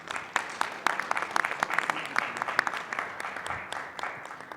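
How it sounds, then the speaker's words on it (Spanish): Clapping rises from an audience at a weekly assembly, crisp individual claps forming a brisk, uneven round of applause, moderately close with no speech on top. "Un aplauso, por favor."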